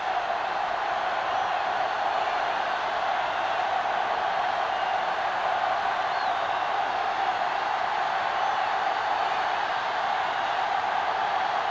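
Stadium crowd in a football video game roaring at the kickoff, a steady unbroken wash of distant cheering that holds at an even level throughout.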